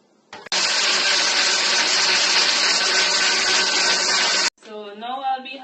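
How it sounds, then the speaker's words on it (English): Blender whirring through ginger, thyme, garlic, pimentos and water for a Jamaican seasoning, running loud and steady for about four seconds after a brief start, then cutting off as a voice speaks. "and then start blending my seasoning"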